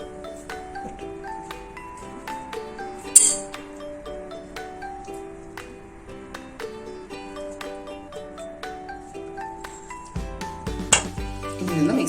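A spoon clinks and scrapes against a vessel as tamarind paste is mixed into rice for puliyodharai. Small metallic taps repeat at irregular intervals over soft background music, with a fuller stirring rustle near the end.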